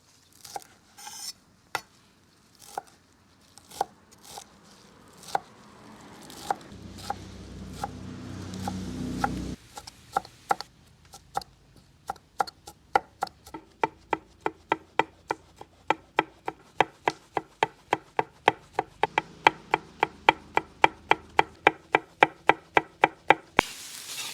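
A knife chops parsley and dill on a cutting board with sharp, close knocks, scattered at first, then a long fast regular run of strokes, with no talking.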